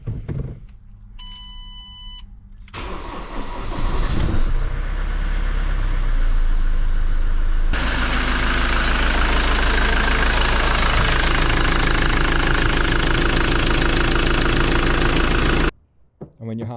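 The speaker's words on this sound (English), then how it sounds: "start the engine just to listen for any exhaust leaks" A Ford Transit van's diesel engine clicks and cranks, then settles into a loud, steady idle that rumbles on for about twelve seconds before cutting off abruptly.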